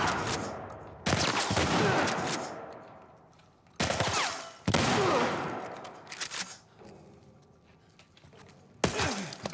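Bursts of rapid gunfire from The Last of Us Part I, loud and close, in several long volleys separated by quieter gaps with fading echoes, no speech.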